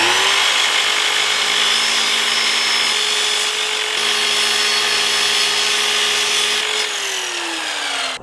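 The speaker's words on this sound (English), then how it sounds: "then cut and sanded it into a more pleasing shape" Power tool cutting and sanding a square wooden attachment piece for a ceiling-mounted articulated camera arm, a steady loud whining drone with a constant pitch that drops at the end, close and continuous with no talk.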